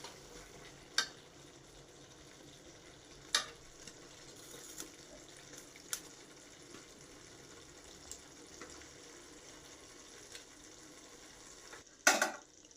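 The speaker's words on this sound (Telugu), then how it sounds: "ఒకసారి బాగా కలుపుకొని ఇందులో చేప ముక్కలు వేసుకుందాం." Fish pieces fry in hot oil for an Andhra-style fish curry (chepala pulusu). A faint, steady sizzle runs throughout, broken by a few sharp clicks and clatters of utensils, with no speech.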